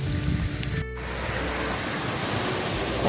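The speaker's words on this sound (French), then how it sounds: "Avec la plage, on voit qu'il y a des bonnes vagues, il y a du sable." Surf on a sandy Gaspésie beach makes a loud, continuous rushing wash with no clear breaks between waves and no voices.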